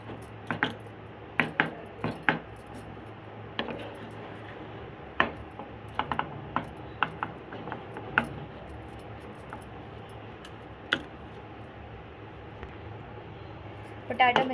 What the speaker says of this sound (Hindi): अब इन दोनों मिक्सचर को अच्छी तरह से हम मिक्स करेंगे